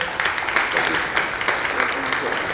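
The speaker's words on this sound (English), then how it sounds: "Give them a round of applause for their time today." A room full of people clap steadily, a dense, continuous round of applause at moderate loudness for an expert panel at a sports wagering summit.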